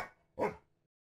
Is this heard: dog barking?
yes